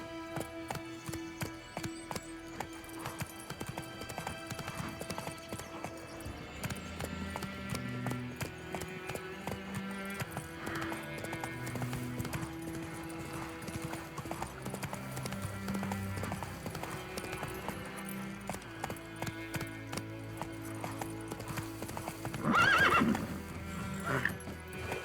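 Roach, a horse in the video game The Witcher 3, gallops with steady clip-clop hoofbeats under game music, and a short neigh rises near the end; a voice speaks briefly.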